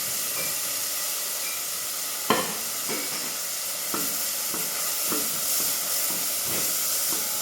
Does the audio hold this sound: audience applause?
no